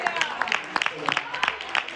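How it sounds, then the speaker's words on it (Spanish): A church congregation claps together at a pastor's call to give a loud offering of applause to the Lord, a sustained burst of many hands with scattered sharper claps, and a voice speaks over it. "darle una fuerte ofrenda de palmas al Señor, hermano"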